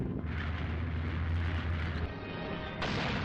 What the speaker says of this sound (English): their 88mm cannons booming, tearing through the advancing Soviet ranks